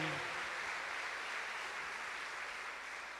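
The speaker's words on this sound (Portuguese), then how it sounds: "nossa salva de palmas ao Padre Adriano, assessor da Pascom" Church congregation gives a round of applause for Padre Adriano during Mass: steady, even clapping from many hands in a reverberant room, with no voices over it, fading slightly toward the end.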